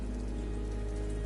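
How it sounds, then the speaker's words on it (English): Steady rain falling in the video game Ender Lilies, a dense, even patter of drops lasting only a brief moment. "But then the rain began to fall."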